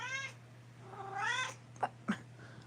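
A cat meows indoors, two drawn-out rising calls close by, followed by two short soft clicks or thumps, with no talking.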